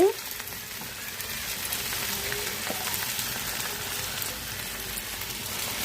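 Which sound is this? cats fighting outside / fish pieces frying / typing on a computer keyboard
fish pieces frying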